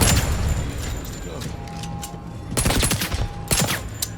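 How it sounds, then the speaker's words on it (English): Gunfire in the video game 007 First Light, bursts of rapid shots clustered near the end of the clip over a constant noisy game background, with voices talking over it. "we stun it and then we just shoot it a bunch"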